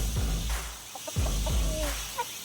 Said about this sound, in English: There's some broody chickens in there.